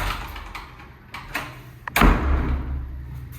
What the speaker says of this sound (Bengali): এই দরজাটা জ্যাম হয়ে গেছে,